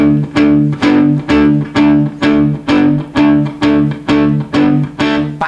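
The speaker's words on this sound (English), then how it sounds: "you might have noticed I'm using palm muting" Palm-muted, distorted electric guitar power chords chug in a steady repeated rhythm, about a dozen short, chopped hits played loud and close with no talking, in a song lesson.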